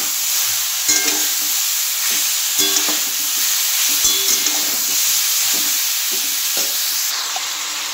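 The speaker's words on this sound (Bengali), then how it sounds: "এবার আমি এটাকে আরেকটু নেড়ে নিচ্ছি।" Chalta pickle with salt and turmeric is stirred in a hot pan, giving a continuous loud sizzle broken by a few utensil scrapes and taps against the pan.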